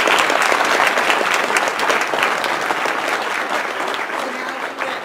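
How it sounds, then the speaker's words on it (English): An audience at the 2014 Worldwide Heart to Heart banquet gives Kim Stevens a warm round of applause, a thick wash of many hands clapping that slowly eases off toward the end. "Can we just give her a round of applause?"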